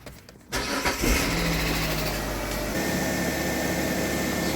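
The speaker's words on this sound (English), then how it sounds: "Let's start it up." A Kia car engine cranks and fires up, then settles into a loud, steady run; the car has a fault causing stalling, loping idle and very high revs.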